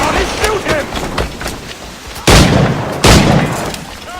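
Gunfire in the video game Assassin's Creed IV: Black Flag, with two loud, heavy booming shots close together amid noisy game sounds and shouting voices.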